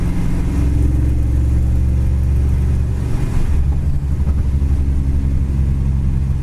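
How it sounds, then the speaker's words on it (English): A 1963 Chevy Impala with a stainless steel dual exhaust drives along, its deep, loud engine rumble steady at first, then dipping briefly before settling back into a throaty cruise. "It does have, like I said, a kind of an aggressive stainless steel dual exhaust system on it."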